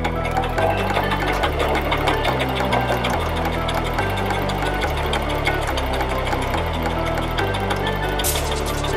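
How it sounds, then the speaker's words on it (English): A sewing machine runs steadily, its rapid mechanical stitching rhythm loud and close, with a regular pulsing chug throughout. "The sewing machine will start moving"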